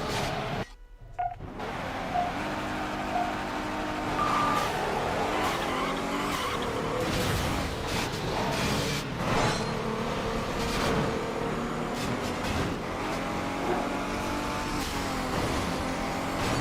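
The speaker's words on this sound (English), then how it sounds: "Red Heart Lamborghini is charging after us" Lamborghini race cars roar through a street race in Midnight Club 3, engines revving and tires squealing as the pack charges close behind, with beeping game tones and a continuous loud engine drone throughout.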